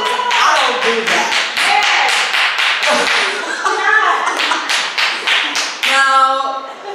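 A church congregation breaks into rapid, loud applause at a sermon, dense clapping running steadily with a few voices rising through it toward the end.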